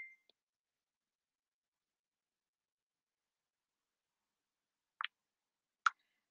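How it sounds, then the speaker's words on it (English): A short electronic notification chime sounds twice near the end, two brief separate tones in otherwise near-silence, with a faint blip at the very start. "I heard a notification."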